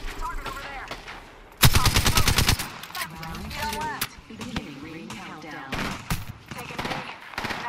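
A short, loud volley of rapid gunfire erupts in a video game battle royale match, mixed with a voice calling out and announcer-style lines, then fading to scattered game sounds and talk.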